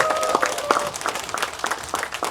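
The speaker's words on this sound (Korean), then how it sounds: "크게 한번 박수 치면서 시작할게요." An audience applauds at a political discussion forum, with steady clapping filling the room and a few sharper claps standing out.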